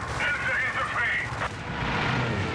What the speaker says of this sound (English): pull the strafing run, there we go